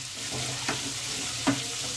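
Pumpkin and radish pieces fry in hot oil with a soft, steady sizzle, broken by two brief scraping stirs near the start and middle.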